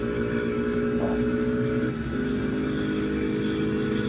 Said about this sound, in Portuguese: Olha a distância que passa esse carro.